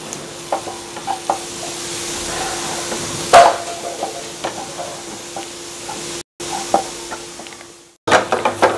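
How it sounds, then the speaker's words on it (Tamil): Masala for egg kothu chapati being stir-fried in a pan gives a steady sizzle, with repeated scraping and tapping of a spatula on metal, close and fairly loud. A short gap breaks it near the end, and no one speaks. "இப்போ மசாலா போட்டு நல்லா மிக்ஸ் பண்ணிட்டேன்"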